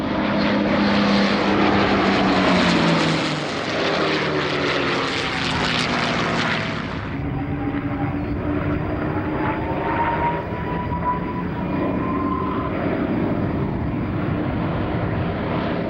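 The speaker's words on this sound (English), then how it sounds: "P-51D Mustang rounds out the trio with an aircraft that saw service with the US 8th Air Force" A P-51D Mustang propeller fighter flies at the Coventry airshow, its loud piston engine roar rising as it passes close, then easing into a steady drone with shifting pitch as it moves away.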